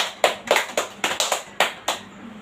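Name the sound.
clapping hands for a student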